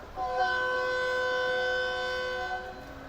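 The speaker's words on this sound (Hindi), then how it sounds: "ये थी पेशावर और कराची के दरमियान चलने वाली 14 डाउन अवाम एक्सप्रेस ZCU के साथ" The 14 Down Awam Express, running between Peshawar and Karachi, sounds a long steady horn that swells, holds for about two seconds and fades.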